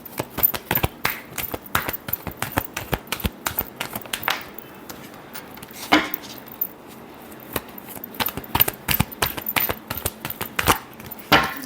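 Tarot cards are shuffled close by in fast, irregular bursts of crisp riffling and slapping clicks, with a few brief lulls between runs and no voices.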